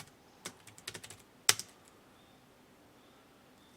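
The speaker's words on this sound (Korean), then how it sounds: "계속 타이핑 쳐주시면 됩니다. 여기서 타이핑이 좀 많이 들어가죠." Rapid keystrokes on a computer keyboard during a Hangul word-processor exam practice session come in quick clustered bursts with a few scattered presses, fairly close and alone without speech.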